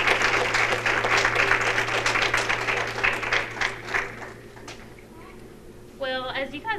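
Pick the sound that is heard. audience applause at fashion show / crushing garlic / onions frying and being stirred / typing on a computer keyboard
audience applause at fashion show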